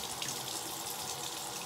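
Water running steadily from a tap into a sink, a constant broadband hiss heard close up and alone, with no voices.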